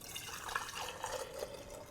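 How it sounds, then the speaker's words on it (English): Hot chocolate pouring through a funnel into a pitcher, a soft continuous liquid trickle and splash, faint and close, with no talk. "I've got a funnel that I'm going to use here to pour this hot chocolate in"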